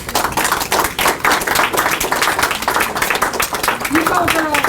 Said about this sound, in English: A big applause for our graduates.